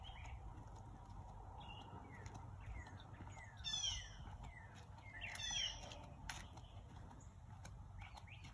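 Faint birdsong drifts across quiet countryside, with short chirps and two brighter bursts of song over a low, steady background hum.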